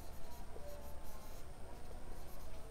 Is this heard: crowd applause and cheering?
no